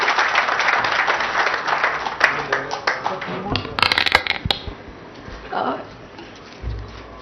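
An audience applauds at a Hyderabad government event for the TS-bPASS building permission system, a burst of clapping that tapers off, with a voice talking over part of it.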